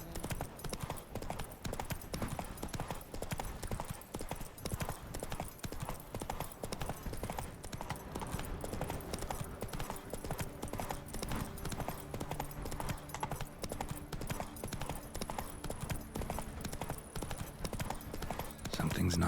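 In The Witcher 3, a horse gallops with a quick, continuous rhythm of clip-clopping hooves over ambient game music, while a voice speaks briefly over it.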